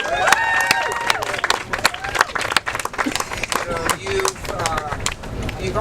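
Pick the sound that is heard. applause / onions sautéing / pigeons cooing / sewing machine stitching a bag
applause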